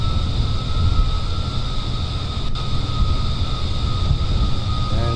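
Aircraft engine in Kerbal Space Program throttling down while gliding in to land, a steady broadband roar with a constant whine holding at one loudness throughout, no voices.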